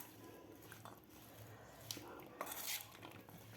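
Spoon stirring and mixing Mumbai-style black chana chaat in a bowl, soft scraping and clinking with a few sharper metallic taps, fairly faint.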